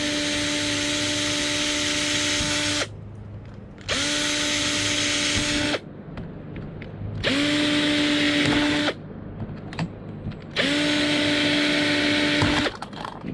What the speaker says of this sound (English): Personally, I like a little drill bit.